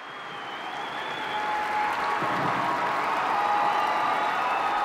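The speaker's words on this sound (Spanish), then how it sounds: "el gran aplauso que sube de toda la plaza" A large crowd of faithful in St. Peter's Square at an Easter papal blessing breaks into sustained applause, a dense roar of clapping that swells and holds from a distance across the open square.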